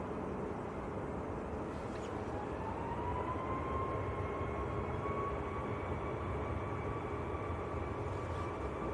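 A TUI Boeing 737 jet departing Manchester Airport, a steady distant engine roar with a slowly rising whine held for the whole span, fairly faint and unbroken.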